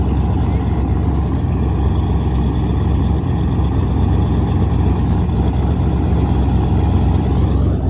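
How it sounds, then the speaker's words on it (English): Trucks driving backwards around a race track, a steady broadband engine rumble with low drone that stays loud and constant throughout, no voices heard. "We got a truck driving backwards on the track over there."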